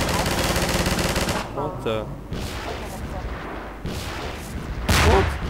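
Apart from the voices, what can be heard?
gunfire in Half-Life 2: Episode Two video game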